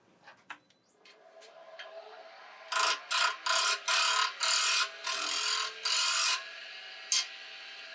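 A wood lathe cuts an offset turning while tapering, giving a series of rhythmic scraping bursts of the tool against spinning wood, close and fairly loud after a few quieter touches.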